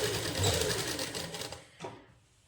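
A sewing machine stitches a winter suit for a one-and-a-half-year-old boy, running in a fast close rattle that slows and stops, followed by a single clack and quiet.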